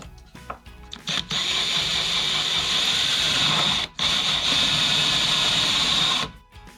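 A power drill in a right angle drill guide with a depth stop bores into an oak desk build, whirring steadily and loudly for several seconds with one short pause, after a few brief clicks.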